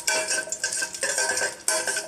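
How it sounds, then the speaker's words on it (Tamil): Cashews and raisins fry in ghee while being stirred in a pan for red poha payasam, giving steady close scraping and clinking strokes with a soft sizzle underneath, no voices. "முந்திரியும் திராட்சையும் வறுத்து எடுத்துக்கோங்க."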